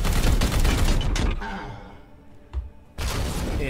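Rapid bursts of support gunfire in the turn-based strategy game Warhammer 40k: Chaos Gate - Daemonhunters, loud and dense at the start, dropping to a lull with a single thump, then resuming sharply near the end.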